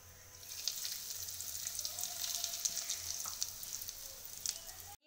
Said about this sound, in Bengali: এবার আস্তে করে একটু নাড়াচাড়া করে নেব। দিয়ে দেবো একটু হিং।